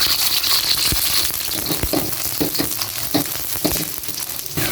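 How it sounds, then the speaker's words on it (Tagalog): Pork pata sizzling and frying in a stainless wok, a steady hiss with scattered crackles and stirring clacks, close and alone without talk. "Gigisa na pala ako guys dito sa stainless wok"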